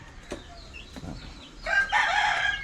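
A Sweater breed rooster crows once, loud and close, near the end after a few faint clucks.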